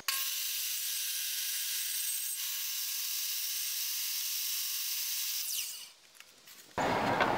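A jigsaw cuts through a wooden window sill in one long, steady, buzzing run that winds down near the end, close and loud, followed by a brief rustle.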